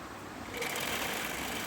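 A sewing machine hums steadily and close while stitching an open palazzo, continuous for the whole short stretch with no pauses.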